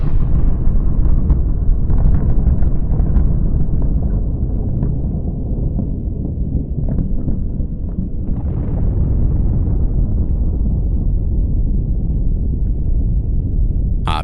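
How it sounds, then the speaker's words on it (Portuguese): A Soviet RDS-1 nuclear bomb test at the Semipalatinsk test site: a loud, sustained low rumbling roar of the blast, rolling continuously without pause and with no voices. "o cogumelo da bomba soviética RDS-1 se ergueu na zona de testes"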